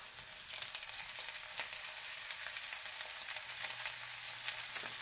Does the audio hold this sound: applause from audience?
no